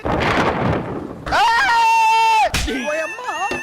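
A heavy rumbling crash of thunder during heavy rain, followed by a long, high wailing cry and a few shorter vocal sounds.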